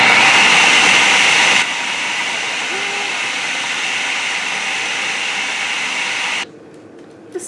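A food processor blending hummus gives a loud, steady motor whir and hiss. It drops to a lower level partway through, keeps running, then stops abruptly near the end.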